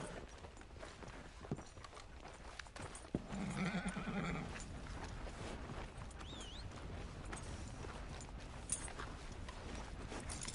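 A horse in Red Dead Redemption 2 gives a faint neigh over soft clip-clop hoofbeats and a steady rushing game ambience, all quiet and distant, with no talking.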